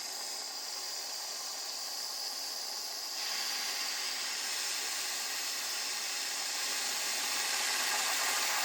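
Bernz-O-Matic ST2200T propane torch flame hissing steadily and fairly close, a broad airy rush that grows slightly louder partway through.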